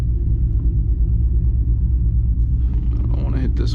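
A cammed 5.3 V8 truck engine idling with a deep, steady low rumble and a slightly choppy pulse, close and loud, as a voice speaks over it near the end.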